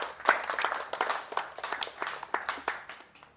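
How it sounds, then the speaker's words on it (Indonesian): A small group claps at a business meetup in a cafe in Gresik: scattered, separate hand claps in an uneven rhythm, fairly close, thinning out and fading toward the end. "Tepuk tangan untuk kita semua, teman-teman."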